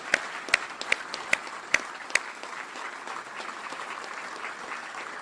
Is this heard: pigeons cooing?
no